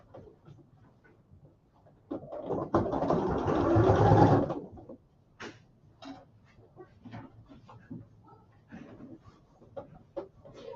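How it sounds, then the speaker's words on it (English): A sewing machine stitches a skirt in one brief, fairly loud whirring run, followed by quieter handling noise and a person talking. "All right, we are sewing the skirt."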